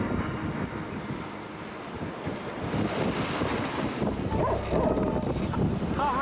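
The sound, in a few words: wind and waves around a sailboat during rain squalls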